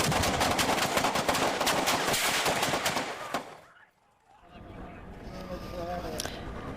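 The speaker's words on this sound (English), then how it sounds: "There's about 10 seconds of gunfire followed by yelling." Police open fire on a U-Haul truck near the entrance of Coast Guard Island at night, a dense volley of rapid gunshots cracking loudly for several seconds, then a brief lull before shouting voices and noise resume.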